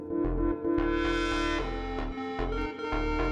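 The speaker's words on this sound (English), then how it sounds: "What you are hearing are the sounds of elements in concert." Electronic music built from the sounds of chemical elements plays loud and continuous, with a steady pulsing low beat beneath layered sustained synth-like tones and shifting bright accents.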